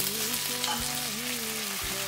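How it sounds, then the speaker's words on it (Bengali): Chopped tomatoes hit fried onions in a pan while cooking a Bengali-style chicken curry, giving a continuous close sizzle with faint stirring scrapes and a low background hum, and no one speaking. "পেঁয়াজগুলো আমার ভাজা হয়ে গেছে, এর মধ্যে আমি 2 টমেটো কেটে দিয়ে দিচ্ছি,"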